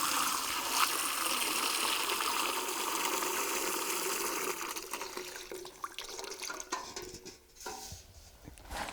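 Water from an outdoor homestead faucet runs and pours into a bucket, a steady rushing stream that tapers off into uneven splashes and small clinks as the flow eases.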